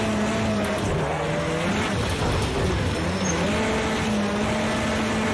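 A Volkswagen Polo rallycross car in Project Cars 2, driven in VR, roars steadily up close, its engine pitch rising and dropping through gear changes and corners, with no voices over it.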